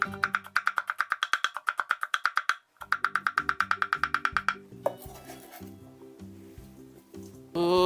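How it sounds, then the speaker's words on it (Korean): Rapid, steady chopping of a knife mincing onion on a cutting board, pausing briefly, then resuming before giving way to scraping and clatter. "잘잘하게 다져주면 됩니다."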